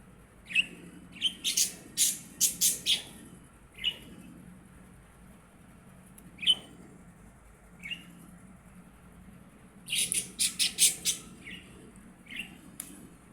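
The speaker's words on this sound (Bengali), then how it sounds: "শব্দটাও সুন্দর, কিচিরমিচির ডাক" Small birds at a nest give bursts of rapid high chirps, clustered in quick runs with single tweets between and quiet gaps. The calls are fairly close and nothing else competes with them.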